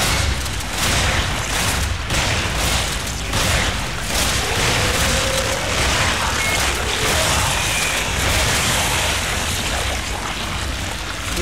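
Gunfire in the co-op video game Resident Evil 5, a dense continuous barrage of shots and booms over loud game noise, with no pauses across the stretch.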